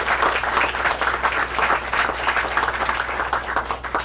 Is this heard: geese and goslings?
no